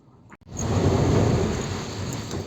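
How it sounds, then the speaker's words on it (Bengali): Heavy rain pours down in a dense, steady roar on a dark early-morning street, starting abruptly after a brief quiet moment and staying loud and close throughout. "ঝমঝম করে বৃষ্টি পড়ছে"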